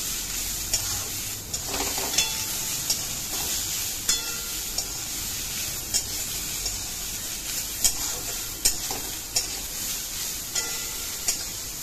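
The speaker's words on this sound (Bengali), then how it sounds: "সবজিগুলো ভালোভাবে ভাজা ভাজা হয়ে এসছে।" Mixed vegetables stir-frying in a pan with Kashmiri chili powder for a panchratna dal, a steady close sizzle broken by regular scraping strokes of a spatula, with no voices.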